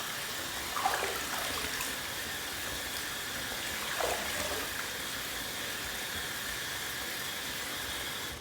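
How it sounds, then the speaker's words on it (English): Water running from a tap while a head is wetted before a razor shave, a steady soft hiss and trickle with brief splashy swells near the start and middle. "I'm just going to wet my head a little bit"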